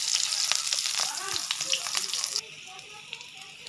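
Garlic and green chili sizzle and crackle in hot oil in a home kitchen pan, a close, busy frying hiss with a few stirring scrapes before it drops to a quieter simmer.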